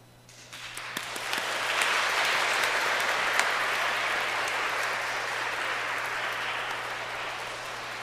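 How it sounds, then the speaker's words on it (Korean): A church congregation applauds at a baptism ceremony. The clapping starts with a few scattered hands, quickly swells into full, steady applause, and then holds at a slightly lower level to the end. "박수로 축하해 인사드릴까요?"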